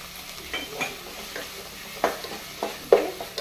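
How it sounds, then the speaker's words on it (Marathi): Chopped onion and tomato with salt fry in a pan for a Goan mixed vegetable curry, a soft sizzle under several sharp spoon scrapes and clinks against the pan, close and with no talking. "2 to 3 मिनिट्स आमकां बरें कांदो फ्राय करून घेवपाक जाय"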